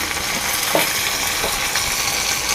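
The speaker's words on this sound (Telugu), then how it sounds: "అటు ఇటు తిప్పుతూ ఇవన్నీ కొంచెం వేగేంత వరకు వేయించుకోవాలండి" Ivy gourd frying in hot oil in a pan, a loud steady sizzle with a couple of soft stirring scrapes as the pieces are turned back and forth.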